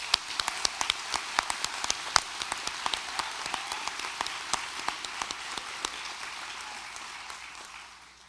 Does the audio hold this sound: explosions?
no